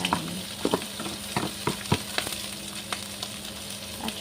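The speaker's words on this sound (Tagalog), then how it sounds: "maglagay uli ako ng konting mantika at isa-fry ko na yung aking" Rice frying in a little oil, likely overnight or frozen rice for fried rice, sizzles steadily while a utensil scrapes and taps the pan in irregular close strikes; nobody speaks.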